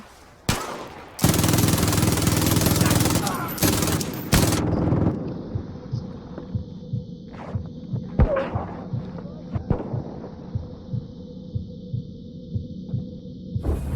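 Gunfire in the video game Far Cry 5: a loud, dense automatic burst lasts several seconds, then gives way to scattered single shots and rapid pops over a steady electronic hum.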